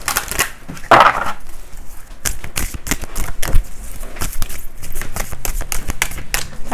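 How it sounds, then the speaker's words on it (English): Tarot cards being shuffled by hand, a run of crisp papery riffles and flicks with a louder burst near the start, close and steady throughout with no talking. "Give them a good shuffle."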